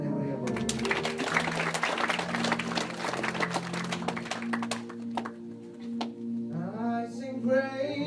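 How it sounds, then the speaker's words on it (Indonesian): A church congregation claps loudly for God over a sustained backing of keyboard chords, the dense applause thinning out after about five seconds as a voice begins singing or speaking over the music. "Berikan tepuk tangan yang meriah buat Tuhan."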